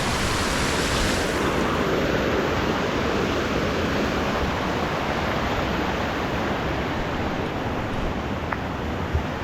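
Lakshapana waterfall in Sri Lanka roars as a dense, constant rush of water, close and loud, with no voices and no break in the flow.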